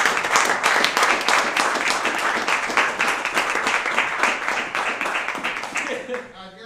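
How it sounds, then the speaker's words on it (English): A room full of people giving a round of applause at a live finance talk event, steady dense clapping throughout before a voice enters at the very end. "Let's give that for a round of applause."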